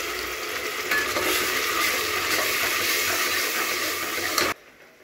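Ground masala frying with onions in a hot pan, a steady broadband sizzle with stirring scrapes that runs for about four and a half seconds, then cuts off abruptly to near quiet.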